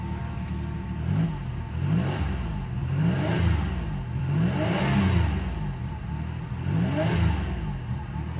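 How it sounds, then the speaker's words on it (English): A 1990 Chevrolet Lumina Eurosport with a 3.1 V6 that has a slight misfire revs repeatedly, each throttle blip rising and falling in a steady rhythm of roughly one per second, close and alone without talk. "Revs up pretty good."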